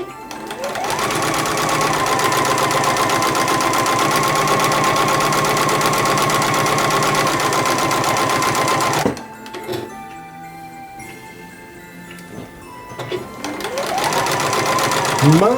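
Sewing machine stitching a Christmas stocking, a steady rapid close whir that stops for a few seconds while pins are pulled, then starts up again.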